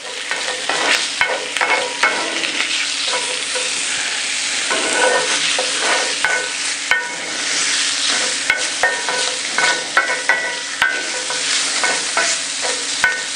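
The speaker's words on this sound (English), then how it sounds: "We're also going to add our green onions and our garlic." Green onions and about a tablespoon of garlic sizzling in a hot pan during a cooking demonstration, with continuous frying crackle and the scrape and clatter of stirring throughout.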